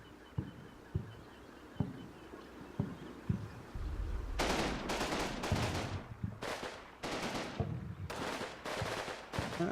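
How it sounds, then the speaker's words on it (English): Gunfire in the video game Combat Mission: Red Thunder, Soviet assault on a hill: a few isolated distant shots at first, then loud overlapping bursts and volleys of rifle and machine gun fire crackling in irregular clusters. "Taking some fire from another abandoned anti-tank gun crew here."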